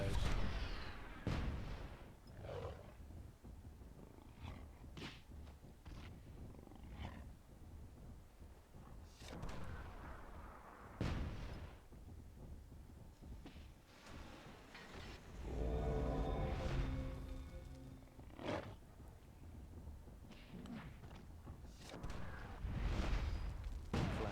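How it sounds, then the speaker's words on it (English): Mortar fire and explosions from the fantasy strategy video game Myth II Soulblighter: repeated heavy booms and thuds land at irregular intervals over a busy battlefield backdrop, with a denser rumbling stretch partway through. "This random blue mortar catching him by surprise."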